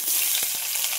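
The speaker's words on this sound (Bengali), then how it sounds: "এখন পেঁয়াজ কুচি দিয়ে দেব।" Chopped onion frying in a pan of hot oil with whole bay leaf, garam masala and cumin, a steady close sizzle with faint soft stirring clicks, no voices.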